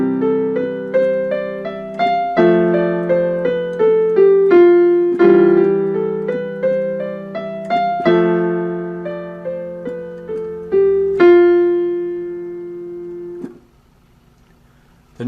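Guitar plays a melodic line in the Lydian mode built from F, a steady run of plucked notes ringing over a sustained low bass tone, ending on a held note that fades out.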